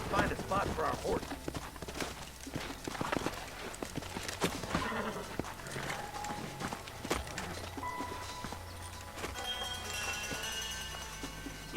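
Hooves clip-clop steadily on hard ground as horses walk in Red Dead Redemption (2010), with a rumbling game soundtrack and scattered effects beneath.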